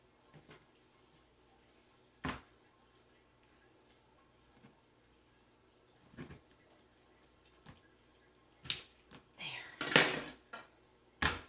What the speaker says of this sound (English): I'm going to split that breast right down the middle if this knife will let me